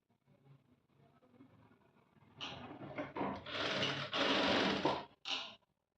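A sewing machine running a rough test seam on dress fabric, starting after a quiet stretch with several loud mechanical bursts of rapid stitching, briefly broken by pauses.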